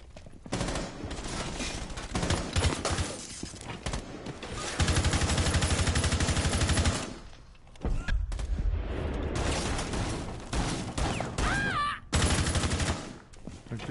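Shotgun and other gunfire blast in bursts during a tactical video game firefight, loud and dense, with pauses between volleys and voices talking over parts of the action.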